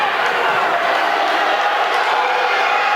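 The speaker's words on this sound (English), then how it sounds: "which caused some reaction from the Charles City crowd" A steady, loud crowd roar swells in a high school gym during a wrestling dual meet at Charles City, sustained noise of many voices reacting to a wrestler thrown off the mat.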